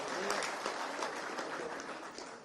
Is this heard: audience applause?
yes